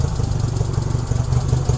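A steady, close idle from the 305 cc engine of a 1967 Honda CA77 Dream motorcycle, a smooth low rumble with faint ticking that holds unchanged throughout and carries no voices over it.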